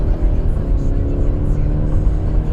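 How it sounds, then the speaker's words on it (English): Engine of a 2017 Subaru Impreza Sport heard from inside the cabin during a tight turn, a steady low drone with road rumble, continuous and moderately loud. "So I can hear the engine now"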